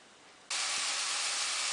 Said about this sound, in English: now I'm going to chop it up and put it in the saute